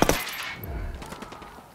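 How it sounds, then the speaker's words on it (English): Gunfire in Ghost Recon Wildlands: a sharp burst of shots at the start, followed by fainter scattered reports and a low rumble trailing off over under two seconds. "I'm opening fire."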